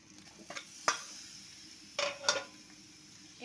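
Chopped tomatoes fry quietly in a pan, with a soft sizzle underneath a few sharp scrapes and clinks as a utensil stirs them against the metal.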